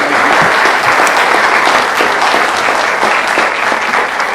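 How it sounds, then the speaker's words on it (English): An audience in a meeting room gives sustained, loud, dense applause that stays steady throughout with no speech over it. "I'm not supposed to allow applause."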